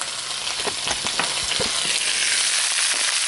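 Leftover cauliflower fries in a pan with a strong, close crackling sizzle, broken early on by a few sharp clacks from stirring, then settling into an even hiss.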